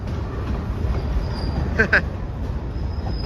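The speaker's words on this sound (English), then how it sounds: "This is a long ass train." An LIRR train passes at Hicksville, a low steady rumble of wheels with a brief squeal in the middle, and a voice talks over it.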